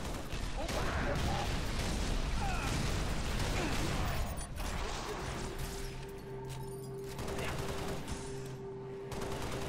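Dense gunfire in a Halo Reach battle near a hangar, a continuous crackle of shots and impacts that thins out midway, leaving sporadic reports over a sustained humming tone.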